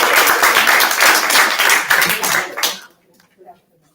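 Dense applause from an audience at a fifth-grade Torah reading celebration, many hands clapping loudly and close for almost three seconds before cutting off abruptly into near silence with a faint voice.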